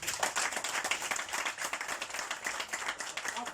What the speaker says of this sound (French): applaudissez pour la RTI.